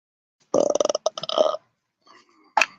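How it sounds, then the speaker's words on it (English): A rapid, stuttering burp with several short pulses after a drink of water is heard up close and loud, followed by a brief quieter noise and a sharp click. "Very nice little burp there."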